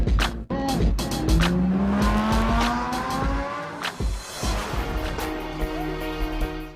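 Car on the move with tire squeal and a rising engine pitch, loud and close, busy with rattling and clatter throughout.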